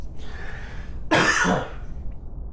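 A single rough, throaty cough up close, short and loud against a quiet background.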